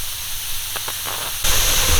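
Steam hisses loudly from a pressure cooker during a manual release while candied ginger cooks, a sudden strong rush that breaks in after a quieter stretch and holds steady.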